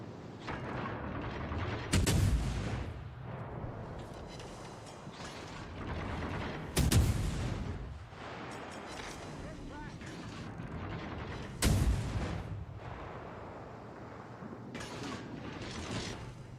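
Heavy naval guns from a battleship in World of Warships Legends boom in three loud, widely spaced salvos, each a sharp broadband blast with a rolling tail over constant mechanical game rumble and creaking.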